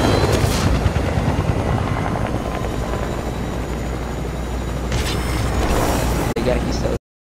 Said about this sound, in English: Oh no, my helicopter.